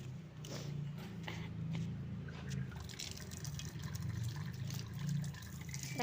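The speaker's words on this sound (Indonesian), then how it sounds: "cuci tangan, cuci kaki" Tap water running and splashing while a child's hands and feet are washed, a steady close trickle with irregular drips and splashes throughout.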